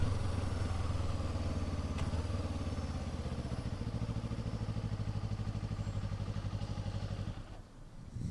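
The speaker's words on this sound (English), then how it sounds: "That's so weird how the engine just cuts out like that." Motorcycle engine running steadily with a clattery mid-range drone, then abruptly cutting out near the end, leaving a brief dip before faint sound resumes; no one speaks.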